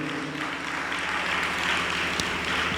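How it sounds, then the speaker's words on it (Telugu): A church congregation claps loudly together during a Telugu Holy Spirit prayer meeting, a dense, steady wash of many hands that keeps going for the whole stretch, with no voice over it. "చప్పట్లు కొట్టండి అందరూ గట్టిగా."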